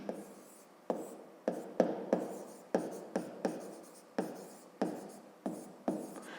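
A pen writes a maths solution on paper in a series of short scratchy strokes that come in quick bursts, each one sharp and close, with brief pauses between them and no voices.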